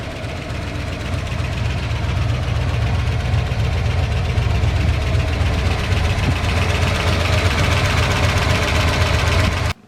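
A truck engine idles steadily at close range, its continuous low rumble topped by a fast, even ticking from the valve train running through the whole stretch before it cuts off abruptly at the end.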